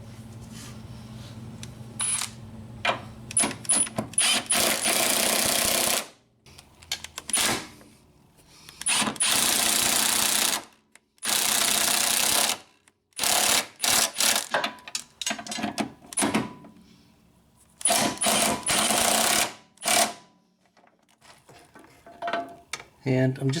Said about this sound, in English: let's tack our 2 bushing bolts down